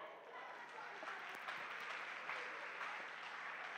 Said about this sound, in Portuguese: Irmãos, aplaudam o Paulo.